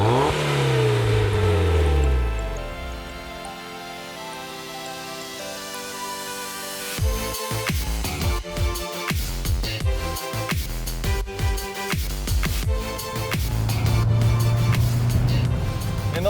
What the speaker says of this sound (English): Let's go for a drive, see how these new mods stack up